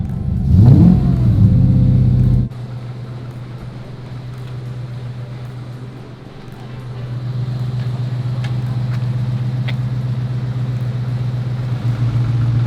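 A Ford GT40 engine cranks and catches with a loud burst of revving, then drops into a steady, rumbling idle that holds at close range with a slight swell partway through.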